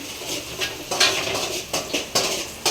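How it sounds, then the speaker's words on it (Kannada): Dishes clatter and clink in quick, irregular bursts, close by, as plates and utensils are rinsed and knocked together. "ಇವಾಗ ಪಾತ್ರೆ ಎಲ್ಲ ತೊಳೆದೆ"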